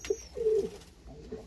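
Pigeons cooing in a loft, a soft low coo rising and holding briefly, close by, with faint background noise and no talk.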